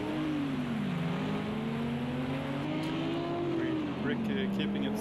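GT3 race cars in Project CARS 2 drone along on a formation lap at Sugo, with a steady engine tone rising and falling gently beneath a commentator's voice.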